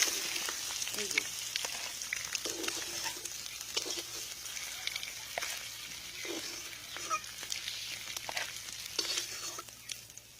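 Eggs cut into four pieces and seasoned with salt and turmeric sizzle steadily in a frying pan, with a continuous hiss broken by short stirring and scraping scrapes throughout, with no talking.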